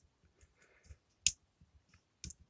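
A spudger pries at the plastic casing of a Poundland 6W LED lamp, giving a few sharp, close clicks and snaps with faint scraping between them in a quiet room.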